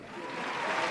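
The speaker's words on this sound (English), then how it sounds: "Amidst the cheers and claps" A crowd applauds in the horror visual novel The Letter, a brief swell of clapping that grows slightly louder over a second.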